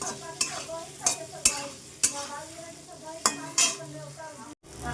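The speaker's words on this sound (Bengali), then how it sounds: "এবার বেগুনটা আমি লাল লাল করে ভেজে নেব।" Salted, turmeric-coated eggplant frying in oil in a pan, with a low steady sizzle broken by sharp, close clinks and scrapes of a spatula stirring against the pan at irregular intervals.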